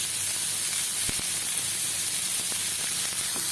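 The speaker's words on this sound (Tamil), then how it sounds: "வெங்காயத்தை அதில் சேர்த்து நல்லா வதக்கிடலாம்." Onions are sautéed in hot oil, giving a steady, close sizzling hiss that runs unbroken throughout, with occasional soft ticks and clicks from the pan and no voices.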